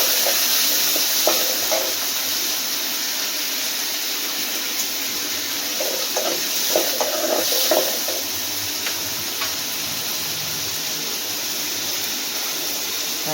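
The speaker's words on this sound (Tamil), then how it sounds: "வெங்காயம் வந்து நல்லா வதங்கணும்." Onions sauté in a pan, cooking down until golden, a soft steady sizzle with a few scraping stirs partway through.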